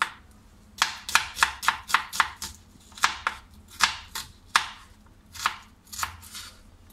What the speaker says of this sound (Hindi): ये मैंने प्याज ले लिया, फिर मैंने साइड का, और इसको ऐसे काटेंगे